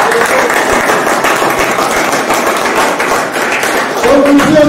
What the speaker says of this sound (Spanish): Aplausos al Rey de Reyes.